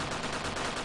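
Gunfire in Graviteam Tactics, a Soviet invasion of Afghanistan scenario with infantry units, comes as a dense, continuous crackle of distant small-arms fire, loud and steady, with no talk.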